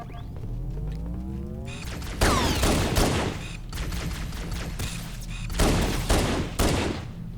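Sustained gunfire from the Halo mission 343 Guilty Spark, with dense bursts of automatic fire and heavy booms across the whole stretch, loud and near, with louder volleys in the middle and near the end.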